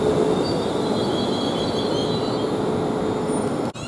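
A Class 350 electric train pulls out of Nuneaton station on the West Coast Main Line, a steady rumbling roll with faint high whine and squeal, fairly loud and close throughout.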